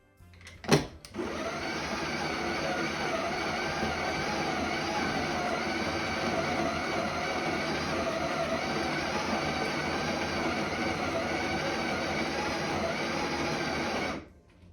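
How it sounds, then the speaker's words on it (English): A Breville Barista Express espresso machine runs with a steady, even mechanical hum and whir after a brief click at the start, stopping abruptly near the end. "I just love the sounds this machine makes in the morning"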